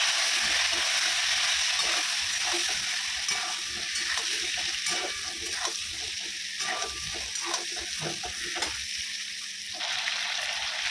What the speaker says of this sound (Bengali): পটলগুলো ভাজা হয়ে গেছে, হালকা করে ভেজে নিচ্ছি